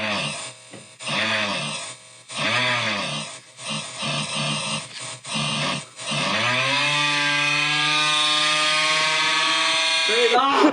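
A small petrol engine like a lawnmower's runs indoors in a warehouse, first sputtering in several short revving bursts, then settling into a loud, steady drone with a rising pitch near the end.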